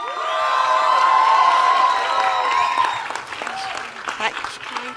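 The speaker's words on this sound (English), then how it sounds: "Can we have a huge round of applause?" Cheering and applause fill a crowded hall, loud and steady with shouts and whoops rising over the clapping, then gradually thinning toward the end.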